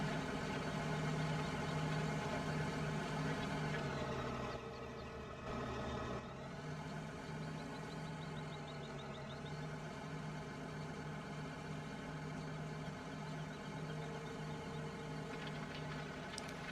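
A tractor engine in Farming Simulator 15 hums steadily at idle and low revs, a continuous mid-range drone that dips briefly partway through before settling back into an even, unbroken rumble.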